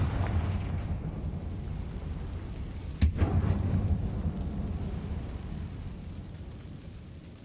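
A Confringo spell explosion in the video game Hogwarts Legacy lands as one sharp blast around the midpoint over a steady low rumble of game ambience, with no talk.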